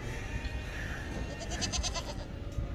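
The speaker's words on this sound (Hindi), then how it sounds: "देखो यार कैसे यहाँ पे बकरियों की मार्केट है, ये छोटे छोटे साइज की बकरियां हैं सारी" Small goats bleating at a crowded goat market in the UAE, several short calls rising over a dense, steady hubbub of animals and activity with no clear speech.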